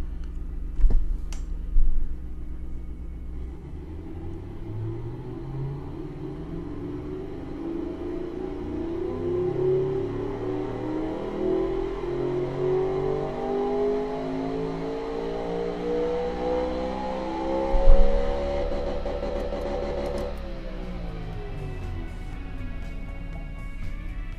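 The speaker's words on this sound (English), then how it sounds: "Let's listen to it." A 6000 cc, 700 hp engine on a car with a 7-speed double-clutch gearbox in the Automation video game revs steadily upward in a long rising sweep, then drops back, loud and alone.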